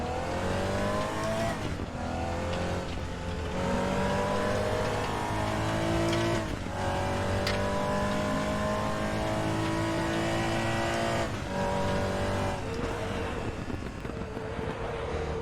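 Race cars in the RaceRoom sim racing game revving hard and sliding, engine pitch rising and dropping repeatedly through gear changes, loud and continuous with no talking.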